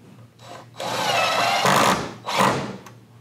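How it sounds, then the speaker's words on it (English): A power driver whirs in bursts as a screw is driven to mount a motorized shade housing, with a short start, a long sustained run, then a second burst, loud and close in an indoor setting. "So I can hold it up here while Ryan attaches the screw"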